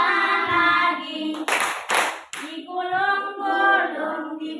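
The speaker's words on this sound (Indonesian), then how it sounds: "Tepuk tangan lagi." A teacher-led action song in an Indonesian classroom, with a few sharp hand claps breaking into a continuous sung voice, close and fairly loud.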